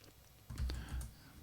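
A few quick keystrokes on a computer keyboard during a coding session, a short cluster of soft clicks heard close and fairly quiet.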